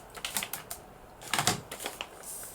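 Scissors snip through paper trimmed for a pocket in a papercraft journal, a few close, crisp cuts in quick bursts with no one talking.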